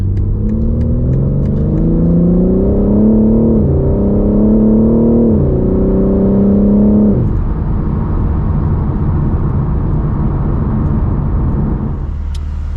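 A BMW G80 M3 Competition with xDrive pulls away on a slippery, icy winter road, its engine droning and rising through a gear change before easing into steady tyre and road rumble, loud and close, with no voices.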